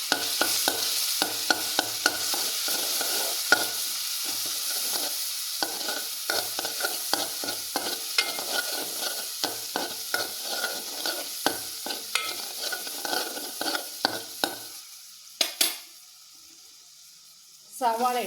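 Chilies, ginger and garlic frying in a pan with mustard seeds for a soybean roast: a close, continuous sizzle with rapid crackling and popping, a spoon stirring now and then, and a brief burst of running tap water near the end.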